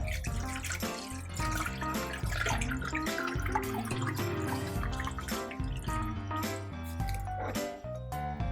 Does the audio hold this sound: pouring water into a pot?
yes